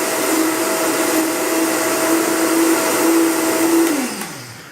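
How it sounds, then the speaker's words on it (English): A blender making nut milk runs with a loud, steady motor whir for several seconds, then winds down as the machine switches off. "so just get your blender ready and blend. So, pardon the noise."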